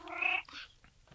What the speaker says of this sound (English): Yeah, that's my cat. That's the cat.